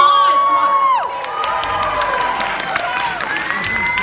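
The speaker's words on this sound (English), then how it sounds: "Round of applause, come on." Loud audience cheering and applause at a school choir concert, with whoops and high shouts over clapping and a sustained bright tone fading out early on.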